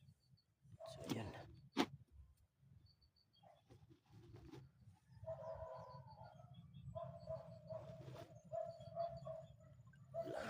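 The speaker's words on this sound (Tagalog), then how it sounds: "Lagi talagang tahol ang aso. tahol ng tahol." A dog barks repeatedly at night in the distance, faint yelping bursts and drawn-out calls rising over a low, murmuring background.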